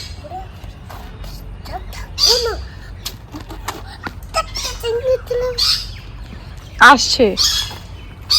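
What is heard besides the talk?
crows and other birds calling in a fruit tree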